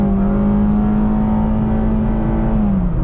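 Engine of a Mazda MX-5 Miata RF GT with automatic transmission, heard from inside during a drive, holding a loud, steady high-rpm drone that dips slightly near the end, with no talking.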